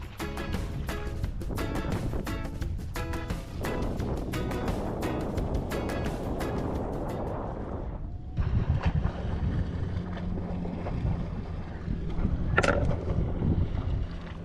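Steady wind buffeting the microphone on a river while kayak fishing, a continuous loud rushing roar with gusts that swell and fade throughout, with no talk.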